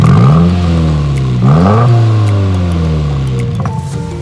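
A Subaru car with a CB exhaust, a right-hand-drive JDM model, revs loudly up close: two sharp throttle blips climb and fall back to a steady idle burble, with no voices.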